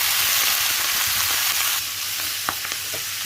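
Steady, dense sizzling of vegetables such as broccoli and cabbage frying in a hot pan, with a few soft clinks of stirring toward the end.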